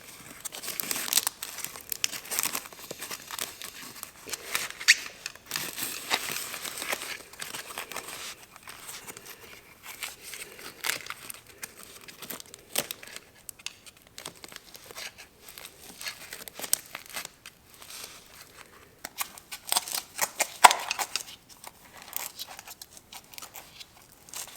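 Half-inch foam backer rod being cut to length with a flathead screwdriver and pushed into a gap while air sealing a garage, giving a long run of close, soft crinkling, tearing and scraping noises with no talk.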